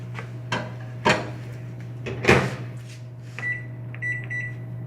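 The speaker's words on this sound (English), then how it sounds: "We're going to pop this in the microwave for 3 minutes." Microwave oven started and running, with a steady low hum, a few clunks and taps at the door, and a series of short beeps near the end.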